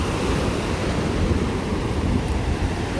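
Ocean surf rolls and breaks continuously at a beach, a loud, dense wash of noise with some wind buffeting the microphone and no voices.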